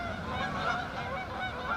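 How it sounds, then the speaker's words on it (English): A flock of geese honks repeatedly in the morning, overlapping calls heard at moderate distance against steady outdoor background noise, with no speech. "Geese all over the place this morning."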